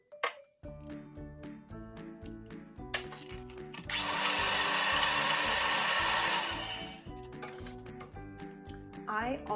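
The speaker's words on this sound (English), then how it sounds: "I'm going to mix them in with my hand mixer" A hand mixer whirs in short bursts and then in one steady run of a few seconds, blending essential oils into homemade deodorant. The whirring sits under a talking voice.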